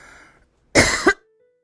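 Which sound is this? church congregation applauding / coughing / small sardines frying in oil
coughing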